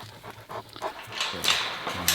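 Puppies panting and whimpering up close, quick rhythmic breathy pants with occasional whines and rustling, growing busier toward the end.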